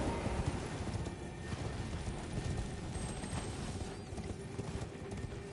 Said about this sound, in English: Now you can use your horse.